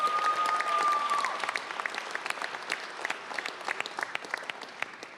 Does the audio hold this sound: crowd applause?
yes